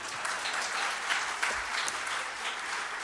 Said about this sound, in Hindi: तो ताली बजाओ यार कम से कम